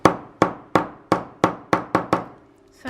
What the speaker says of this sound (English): you can just tap it with a little hammer